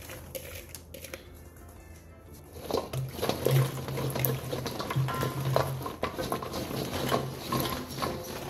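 Pickle ingredients with whole garlic, ginger and chili are mixed, starting quiet and then becoming a close, continuous wet sloshing and squelching churn from about three seconds on.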